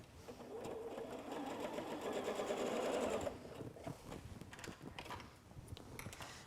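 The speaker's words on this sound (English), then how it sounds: "so let's just sew this half together" A sewing machine stitches quilt block halves together in a fast, even whir for about three seconds, then stops, leaving soft handling clicks and rustles of fabric.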